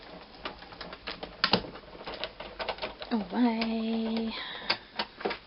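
A hand-cranked die-cutting machine runs a pillow box die through with a string of ticking, clicking knocks, while someone talks over the cranking.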